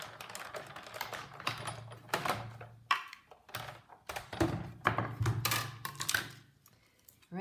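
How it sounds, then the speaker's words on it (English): A hand-cranked die-cutting machine pulls a card sandwiched between cutting pads through its rollers, producing a quiet series of rhythmic clicks and clunks with brief pauses between bursts. "So I'm going to put my top standard cutting pad on, hold it in place, and then run it through."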